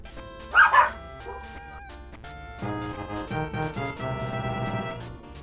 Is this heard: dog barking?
yes